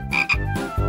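A cartoon frog gives a quick series of deep, close croaks, clear and alone with no talking.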